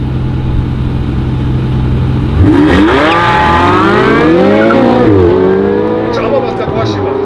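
A Porsche 918 Spyder and a Ferrari 488 accelerate hard side by side in a quarter-mile drag race, engines rising and falling in pitch through gear changes, loud and close, with a steady idle rumble beforehand and people talking over it.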